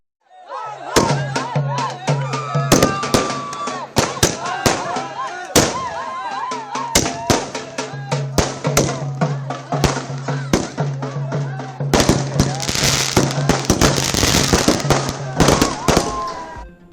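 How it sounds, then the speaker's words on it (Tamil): Rapid strings of firecrackers crackle and bang loudly in a celebration in India, bursting in irregular volleys with people talking and cheering underneath. "இந்தியர்கள் பட்டாசு வெடித்து கொண்டாட்டம்"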